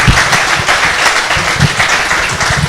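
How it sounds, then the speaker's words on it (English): Audience applause for panel speakers at a startup Q&A event: close, loud, dense clapping from a room of people, steady throughout with individual claps standing out. "Can we give a round of applause for these guys?"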